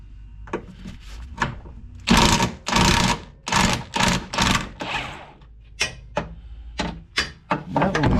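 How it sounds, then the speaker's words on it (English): An air impact gun loosens the fuel tank bolts on a stock 2005 Jeep TJ, firing in several loud, close rattling bursts of about half a second each, separated by short pauses, with lighter clicks and taps between them. "So let me grab the impact gun here."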